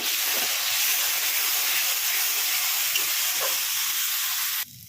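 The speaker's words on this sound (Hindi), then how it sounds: "मसाले को मीडियम फ्लेम पर भूनेंगे" Spice masala with turmeric and chaat masala roasts in a pan over a medium flame for a Bihari-style potato, chickpea and soybean curry, giving a loud, steady hissing sizzle that cuts off abruptly near the end.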